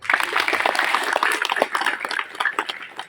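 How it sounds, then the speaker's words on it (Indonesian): Applause from an audience at a Hindu gathering on ancestral purification in Lampung, dense and fairly steady for about three seconds with no talk over it. "Mari kita tepuk tangan."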